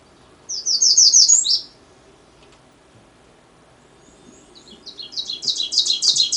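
Two bursts of ovenbird teacher-teacher song, one near the start and a longer one building toward the end, high rapid repeated phrases from a forest floor with quiet between.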